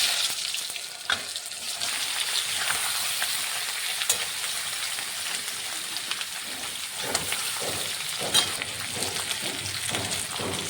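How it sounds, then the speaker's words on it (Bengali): Potato pieces frying in hot oil seasoned with nigella seeds and salt, a steady close crackling sizzle with occasional sharper pops and stirring scrapes, no voices. "তেল গরম হয়ে গেছে, কালো জিরা করে দিলাম, নুন দিয়েছিলাম। এবার আলুগুলো দিয়ে দিলাম।"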